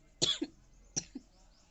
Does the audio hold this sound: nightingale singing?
no